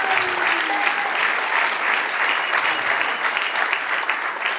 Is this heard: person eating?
no